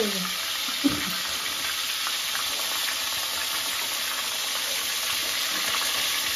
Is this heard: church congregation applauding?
no